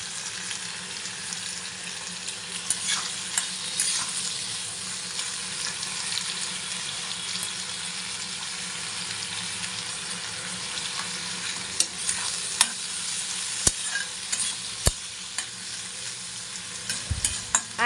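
Chopped prawns and banana flower frying in a pan, a steady dense sizzle throughout with occasional scraping and clicking of a utensil stirring against the pan, and no voices.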